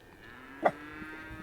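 A single cow gives one short, fairly faint moo over steady background hum on a farm using a new mineral feeding system.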